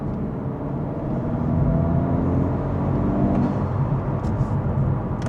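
An Acura Integra Type S (DE5) with a Sprint SF air filter pulls in fourth gear, a deep steady engine drone rising slightly in intensity, heard from inside the cabin with no talking.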